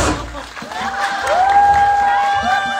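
A Korean cinema audience at a stage greeting for the film 30 Days claps and cheers loudly as a cast member is introduced, with a sustained high whoop rising over the applause and voices mixed into the crowd.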